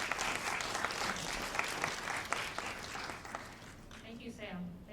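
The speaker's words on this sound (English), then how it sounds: "give her a warm round of applause" Warm audience applause at a film festival Q&A, steady clapping for several seconds that thins out near the end as a voice begins speaking over it.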